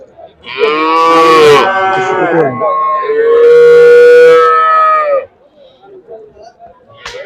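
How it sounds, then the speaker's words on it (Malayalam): Two long, loud moos from calves close by at a cattle market, one after the other, followed by a quiet pause. "പല റേഞ്ചിലുള്ള പശുക്കുട്ടികളാണ്"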